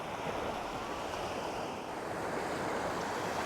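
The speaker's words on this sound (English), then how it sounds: "So you get an idea of what this beach is like. Really nice water, nice sand" Steady, loud surf washes continuously onto Sai Kaew Beach on Koh Samet, Thailand, a dense unbroken roar of waves mixed with wind buffeting the microphone, with no voices.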